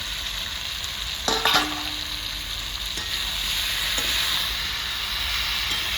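Soaked soybeans are poured into a hot frying pan, with a short clatter and splash followed by a continuous close sizzle of frying.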